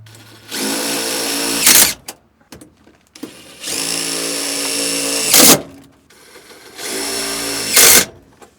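A power drill drives screws into the joints of a 4-inch furnace flue pipe, three long whining bursts that each rise to a sharp, loud peak as the screw seats, separated by brief clatter and handling noise.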